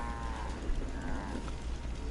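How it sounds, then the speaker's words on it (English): A Brahmin, a cow-like livestock animal in Fallout 4, moos low and drawn out inside a bedroom at a settlement, over a steady background hum with no talk. "I don't know why this cow, this Brahmin, is in the bedroom"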